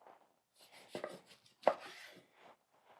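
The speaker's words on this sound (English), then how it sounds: "Cut it in half, diagonally of course," A knife slices through a crisp, melty grilled cheese sandwich diagonally, a few crunchy crackling cuts through toasted bread with one sharper crunch near the middle, quiet and close.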